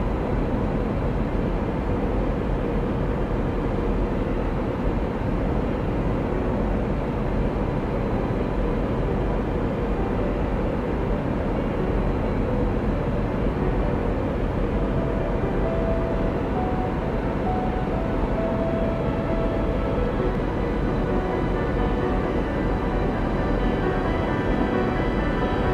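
A Cathay Pacific airliner banks hard left on approach in a flight simulator, its steady broadband engine and airflow roar droning continuously at an even, loud level throughout, with no voices.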